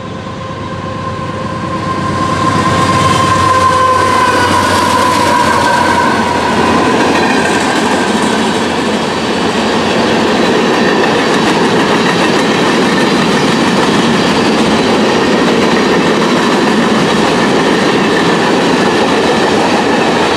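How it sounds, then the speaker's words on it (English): A CSX westbound mixed freight train on the Willard subdivision, led by two AC4400CW locomotives and an EMD GP38-2, rolls past close by with steady loud wheel rumble and clickety-clack that swells after the first seconds and holds throughout. "CSX makes its third appearance of the day by sending a westbound mixed freight train on the Willard subdivision, led by two AC4400 CWs in YN2 and an EMD"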